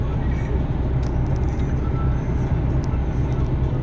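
A car cruising on a German autobahn, a steady, loud low road and engine rumble with tyre noise filling the whole stretch, close and continuous, with no other distinct sounds.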